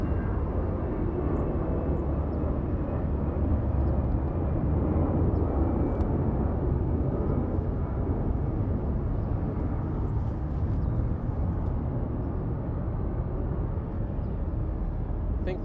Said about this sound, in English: A300 lining up shortly here on the south side, flight 7005 headed to Guadalajara